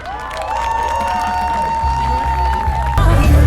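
A crowd at the Łeba motorcycle rally cheers and claps during a costume contest, shouts and applause blending into a loud, continuous roar, with engine-like rumble and a sharp burst near the end.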